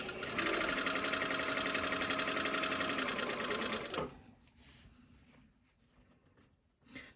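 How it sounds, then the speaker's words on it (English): A sewing machine runs steadily for about four seconds, stitching in the ditch along a seam of a jacket, then stops, leaving quiet handling noise. "So I'm just going to stitch in the ditch along the seam."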